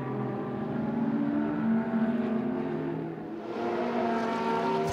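GT race cars from the Blancpain GT Sports Club at Spa, with a Ferrari leading, roar past on the track. Several engines drone and overlap at steady high revs, close and loud, with pitch shifts as the cars pass. No voices are heard.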